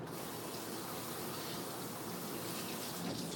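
Tap water runs in a steady, even gush while a pot lid is rinsed in a kitchen, continuous and fairly close, with no talking.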